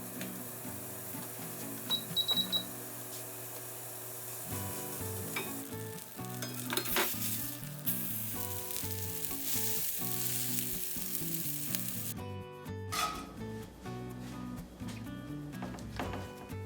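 Beef burger patties sear in a hot skillet, a steady close sizzle with bursts of spattering and faint scrapes, no talking over it, heard at home cooking scale.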